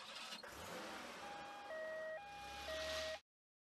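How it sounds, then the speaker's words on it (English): An ambulance siren wails in a two-tone pattern over a running vehicle engine, loud and close, then cuts off abruptly. "Ambulance."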